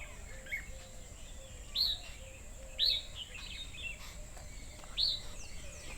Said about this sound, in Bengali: খুব সুন্দর চারিদিকে কিন্তু পাখির ডাক।